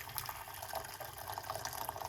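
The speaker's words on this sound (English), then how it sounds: "So let's put hot water into the pot." Hot water pours steadily into a pot, a soft continuous splashing trickle, quiet and close.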